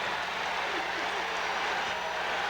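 Basketball arena crowd on its feet at a college game, Ole Miss against Tennessee, a dense, steady roar of cheering and clapping filling the whole short stretch.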